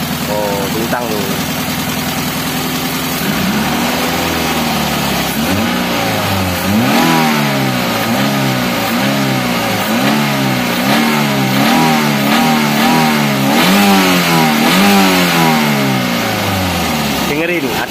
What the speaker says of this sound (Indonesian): sekarang lebih jelas lagi suara mesinnya seperti apa